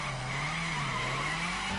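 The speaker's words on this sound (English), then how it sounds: "It sounds like the car's literally just braking" A car in The Crew braking hard and skidding, a sustained loud tire screech over a low engine hum, close and continuous.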